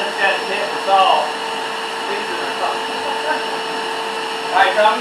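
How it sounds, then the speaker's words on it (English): A vacuum cleaner hums steadily in a backyard workshop during drawer repair, a constant whine holding throughout with faint voices murmuring over it now and then. "My vacuum cleaner on"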